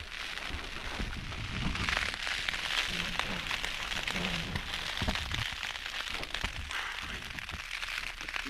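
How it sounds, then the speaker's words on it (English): Steady rain drums and crackles on a taut tent close by during a stormy hill camp, a dense continuous patter with occasional louder drops and faint voices underneath. "Wait till the rain goes off"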